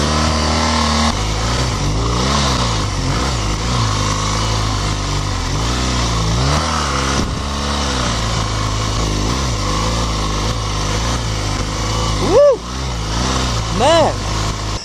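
BMW GS motorcycle ridden through sand dunes, engine revving up and down repeatedly in surges, loud and close, with a rider speaking over it.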